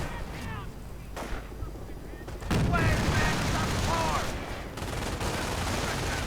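Company of Heroes battle sounds: bursts of rifle and machine-gun fire and explosions, growing louder and denser midway, close and sustained with no speech over them.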